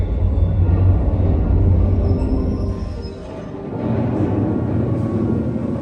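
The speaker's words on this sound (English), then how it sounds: "And here comes the ore train." A heavy mine ore train at a mining museum rumbles in loudly with a deep, steady roar that dips briefly midway before building again.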